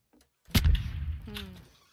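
An incendiary grenade bursts in Trouble in Terrorist Town, a sharp close blast that settles into a sustained roaring hiss of burning, with a faint tonal whine laid over the fading fire.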